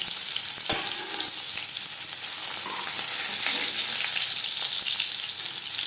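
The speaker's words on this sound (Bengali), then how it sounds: "মাছ আমি হালকা করে ভেজে নিলাম।" Fish sizzling in hot oil for a Bengali fish curry, a loud, continuous crackling fry up close with an occasional pop and no talk.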